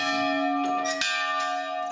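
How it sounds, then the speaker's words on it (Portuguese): Rusty old church bell ringing, one sustained metallic toll with a fresh strike about midway, bright ringing overtones filling the short clip. "Um sino enferrujado"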